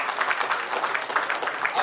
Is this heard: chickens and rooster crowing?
no